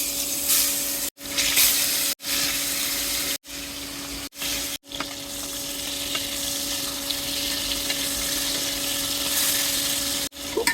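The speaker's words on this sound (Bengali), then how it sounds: "হালকা করে মাছগুলি ভেজে নেব, নামিয়ে নেব।" Pieces of folui (featherback) fish rubbed with turmeric and salt fry in hot oil in a pan, giving a loud, continuous close-up sizzle and spatter broken by several brief gaps, with no voices.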